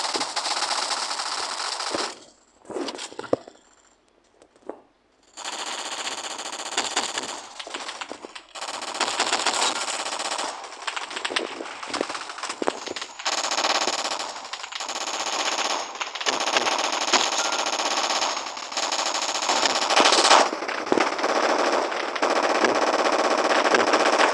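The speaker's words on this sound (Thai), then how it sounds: "เอาโดนยิงอีกแล้ว" Rapid machine-gun fire rattles in long, loud sustained bursts, with a brief lull early on before continuous automatic fire resumes and runs to the end.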